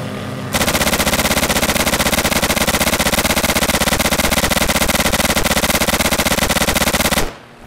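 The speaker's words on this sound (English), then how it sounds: "Did you happen to, you know, hear any shooting?" Sustained rapid automatic gunfire from a video game, a loud continuous burst of dense shots running for about seven seconds with no talking over it.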